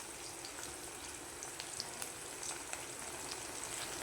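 Garlic and onions sizzle steadily in a frying pan for Tamil vathakku chutney, a constant close crackle with faint spits and pops scattered throughout and no voices.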